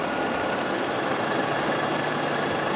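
Singer 1306 sewing machine running steadily while stitching a zigzag pattern, a continuous close whirring, buzzing drone that holds level throughout with no pauses or talk.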